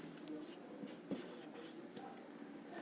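Faint marker or chalk strokes as a definition is written on a classroom board during an electric potential energy lesson, quiet scratches under low room noise.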